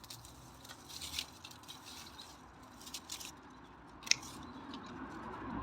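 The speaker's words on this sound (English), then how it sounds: "So just giving it a good trim" Garden shears trim back damaged, dead plant growth in a spring garden, giving faint, scattered snips and crisp cuts over low outdoor ambience, with one sharper snip standing out near the end.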